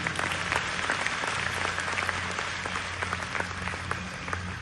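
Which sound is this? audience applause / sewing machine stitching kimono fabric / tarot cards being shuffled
audience applause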